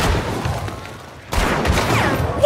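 Loud gunshots in the video game Hunt: Showdown, a sharp report followed after a brief lull by another blast and its echoing tail, heard up close with game ambience.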